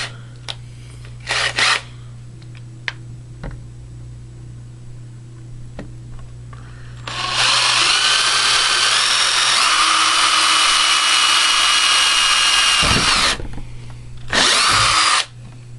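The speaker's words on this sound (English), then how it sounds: "we are going to drill our holes." A power drill bores holes for the hardware of a homemade 2 meter and 70 cm dual band vertical dipole antenna, giving two quick blips and then a long loud sustained whine close by, followed by another short burst.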